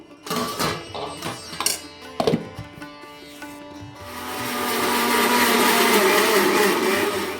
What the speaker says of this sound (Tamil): இஞ்சி, அது கூடவே 2 கொத்து கருவேப்பிலை, கொஞ்சமாக கொத்தமல்லி தழை போட்டு நல்லா அரைச்சி எடுத்துக்குவோம்